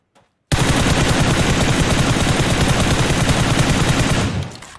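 Sustained automatic gunfire in the PUBG Mobile sniper battle, a loud, dense, rapid stream of shots starting abruptly and running for about four seconds before cutting off, with no talking.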